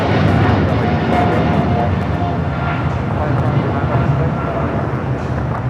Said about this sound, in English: Next takeoff.